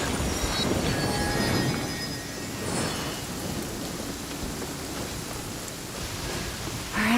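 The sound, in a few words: rain falling in video game Genshin Impact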